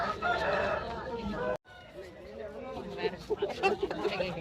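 A rooster crows loudly at a livestock market, then clucking and chatter follow, with people haggling nearby over the birds.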